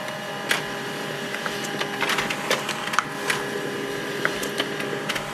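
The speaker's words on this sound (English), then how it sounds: "Wait for the printer to print a page." An HP LaserJet M140we laser printer whirs steadily while printing a page on A4 paper, with sharp clicks and snaps of paper feeding breaking through at irregular moments, close by, with no voices.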